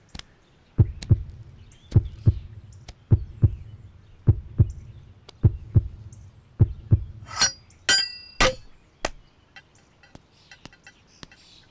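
A heartbeat sound effect in an English-dubbed love story thriller film gives deep, regular thumps about once a second. Later, a few bright clinking and rattling sounds break up the steady rhythm.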